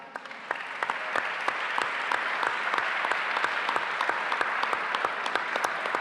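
An audience at a forum on forty years of democracy applauds for Leonardo Fossati, dense sustained clapping from a large crowd filling the whole stretch at even loudness.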